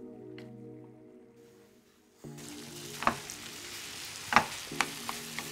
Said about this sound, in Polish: Na patelni podgrzewam masło, a gdy już zacznie skwierczeć, dorzucę wcześniej upieczone i starte buraczki.